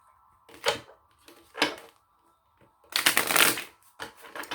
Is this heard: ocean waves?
no